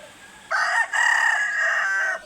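A rooster crows at a farm chicken coop, one loud, drawn-out call lasting under two seconds with a brief break near the start, heard nearby over quiet background.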